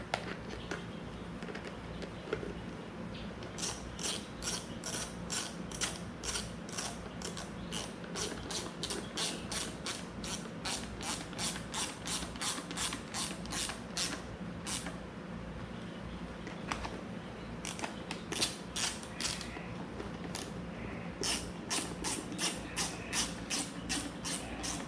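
A ratchet wrench clicks in quick, rhythmic runs while working on a Troy-Bilt Super Bronco small engine during a repair, the faint ratcheting bursts repeating over a low steady background hum.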